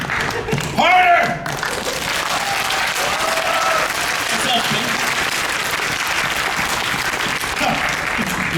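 An audience at a cartoon-court panel at a convention bursts into loud, sustained applause, a dense wash of clapping that runs throughout, with people calling out and talking over it at the start.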